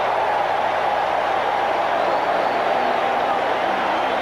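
Broad, steady roar of a large baseball stadium crowd during extra innings of a scoreless 1980 NLCS Game 4, a continuous dense wash of cheering and noise with no pauses, heard from within the stands.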